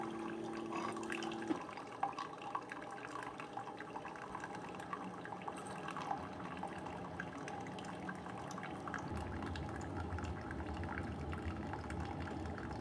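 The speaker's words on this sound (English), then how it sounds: "And the Mr. Coffee is about done, and it'll do a real quick shoot of hot water through the K-cup also." A Mr. Coffee Duo 10-cup K-cup combo brewer shoots hot water through a K-cup, a steady hissing, gurgling flow that runs continuously at close range with a low hum entering near the end.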